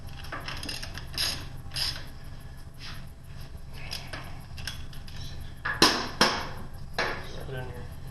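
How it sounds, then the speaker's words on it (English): Top bolts on an M-23 unit are tightened with a wrench, producing close, irregular bursts of metallic ratcheting clicks with a few sharper knocks toward the end. "You can go ahead and tighten up your two top bolts."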